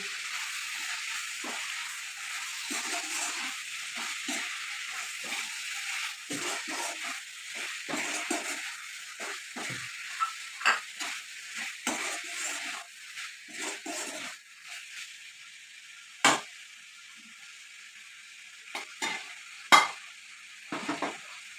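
Cumin seeds sizzle in hot oil for an Assamese-style chicken curry, a steady broad hiss with scattered stirring scrapes and a few sharp clinks of a spoon against the pan, no talking.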